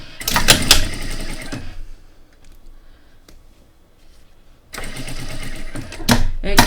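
Sewing machine stitching the lining of a coin purse, running in two loud bursts of continuous motor whir separated by a quiet pause, close up.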